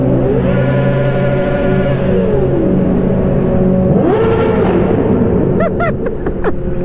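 Motorcycle engine on a road in Japan revving loudly, with a rising whine near the end over steady close engine and road noise.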